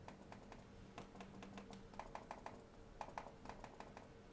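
A Thomson Neox 15.6-inch budget laptop's trackpad being pressed, a quick series of faint, close plastic clicks and taps, some in short bursts, over a quiet room hum.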